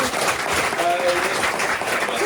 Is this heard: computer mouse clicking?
no